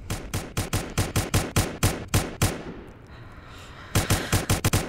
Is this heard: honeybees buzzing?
no